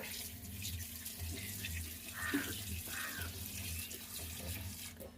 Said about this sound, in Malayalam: ഇതിൽ നമുക്ക് കുറച്ച് വെള്ളം ഒഴിക്കുക